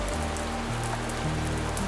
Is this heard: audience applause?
no